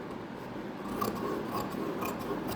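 Scissors cut fabric for a Baahubali-style sleeve, making soft continuous rasping snips at an even pace, close and quiet, with no voices.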